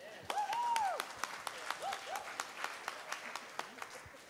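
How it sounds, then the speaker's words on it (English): An audience applauds a guest at a book café event, giving scattered individual claps that thin out over a few seconds, fairly close and moderate in level, with a voice speaking over the start. "I think we'll have a round of applause for Calver."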